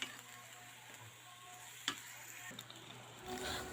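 Cut chicken pieces for chicken apretada sizzle steadily in a hot pan, a soft continuous frying hiss with a few small pops and clicks of stirring, close by and without talk.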